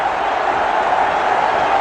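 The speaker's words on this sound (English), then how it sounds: "The crowd's loving it." A cricket stadium crowd roars after a boundary in a Bangladesh versus Sri Lanka tri-nation match, a dense, even wash of cheering held at full loudness for the whole brief moment.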